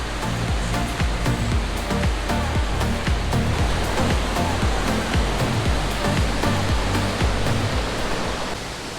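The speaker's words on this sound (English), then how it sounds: "That's such a tall waterfall." A tall waterfall in the Balinese jungle roars in a steady, dense rush of falling water, loud and close, continuous throughout with no voices over it.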